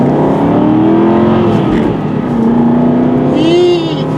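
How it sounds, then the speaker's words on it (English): Aston Martin car pulling away from a stop sign, a loud steady engine drone rising in pitch as it accelerates from inside the cabin. "This is my Aston Martin."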